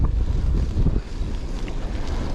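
Strong cold wind buffets the microphone with a continuous low rumble, loud and close, without any voices.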